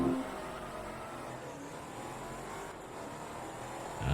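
Race cars launch from a standing start in a drag race in the Forza Motorsport 2 racing game, their engines droning loud and steady throughout, with a brief swell at the very start and again at the end.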